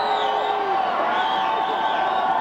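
A large New Year's Eve crowd in New York at the 1999 celebration roars and cheers wildly, a loud continuous wash of shouting and whoops with a high whistle-like cry rising above it.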